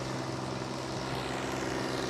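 A Massey Ferguson 8055 tractor moves forward at good speed, its diesel engine giving a loud, steady, rumbling drone with a pulsing low throb throughout.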